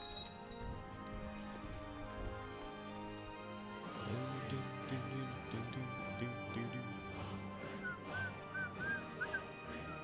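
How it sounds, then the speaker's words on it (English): A man whistles a melody along to background game music from Crusader Kings 2, the soft tune rising over the music in the second half, faint and indoors. "sorry about whistling. I kind of get into the music"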